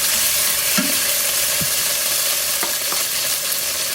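Ginger and garlic fry in a pan with a loud, dense, constant sizzle, broken by a few light clicks of a utensil against the pan, with no voices.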